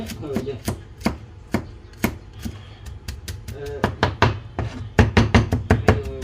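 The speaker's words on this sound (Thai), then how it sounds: "ตอนแรกต้องมาซับกระเทียมกันพี่น้อง" Garlic chopped with a knife on a board, sharp close thuds in uneven bursts that quicken into a rapid run toward the end, with some talk faintly underneath.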